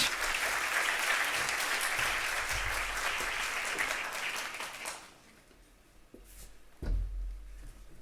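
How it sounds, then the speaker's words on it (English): Audience applause for Makhtar Diop, Vice President for Infrastructure, at a digital economy keynote event: sustained dense clapping for about five seconds, then fading to scattered claps and room noise. "A round of applause for Makhtar Diop"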